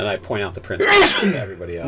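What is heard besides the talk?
sneeze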